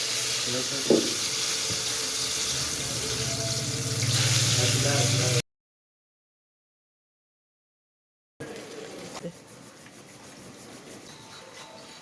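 Potato pakoras fry in hot oil with a steady loud sizzle and crackle, broken by a short silent gap before the frying resumes.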